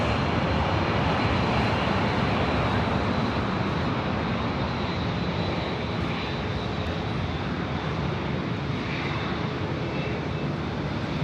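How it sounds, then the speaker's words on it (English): A United Boeing 787 taking off on runway 24 left at LAX gives a steady, loud roar of jet engines that carries on without a break, heard from a distance with no talking. "787 with United up next for takeoff here on the north side, 24 left."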